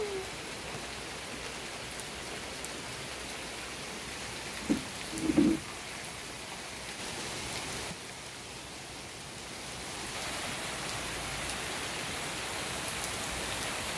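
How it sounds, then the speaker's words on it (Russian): Heavy rain pours down in a dense, steady roar, with a couple of brief knocks partway through and no talking. "Вот это льет."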